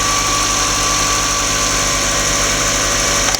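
Mazdaspeed MX-5 with an Evo3 16G turbo idling right after its first startup, a loud, steady close-up hum with a fine rapid pulse and high whine, running alone without pause.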